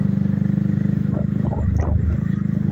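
A motorcycle with a noisy drive chain is ridden, its deep rhythmic engine pulse throbbing throughout while a rattly clatter rises and falls near the middle, close and loud.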